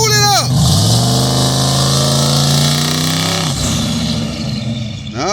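The Punisher C10 truck engine revs loudly and holds a high, strained drone that fails to climb. It drops back after a few seconds, then flares again.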